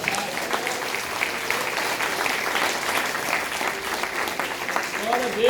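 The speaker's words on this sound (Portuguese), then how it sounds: "Você pode aplaudir o Senhor, querido?" Church congregation applauding together during a sermon, a steady dense clapping that fills the room and swells slightly toward the end, with a preacher's voice coming through in places.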